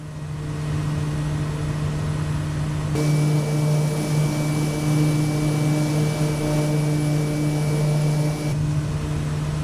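A Kodiak 100 propeller plane drones steadily in Microsoft Flight Simulator, a loud, constant engine hum with a strong low tone that brightens and grows fuller partway through, then eases back.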